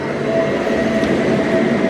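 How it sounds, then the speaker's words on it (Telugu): The Kongu Express from Coimbatore Junction to Hazrat Nizamuddin rolls past at a railway crossing, a loud, close, continuous rumble of wheels and carriages with a faint squeal. "కొంగు express Coimbatore junction to Hazrat Nizamuddin. ఇప్పుడు హజరత్ నిజాముద్దీన్ వెళ్తుంది"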